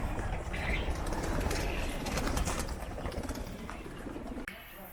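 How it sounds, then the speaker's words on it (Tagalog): Pigeons coo and murmur amid a busy outdoor bird chorus, fairly close, with steady background noise throughout. "Daming kalapati oh."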